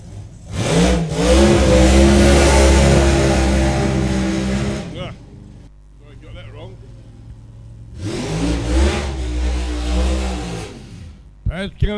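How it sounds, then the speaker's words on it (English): A supercharged 364 Chev-powered drag racing car does a burnout at an ANDRA sportsman meet in Portland, its engine roaring loud and sustained in two long bursts with a gap between, while a commentator talks over it. "Paz Kelly there does his burn out first"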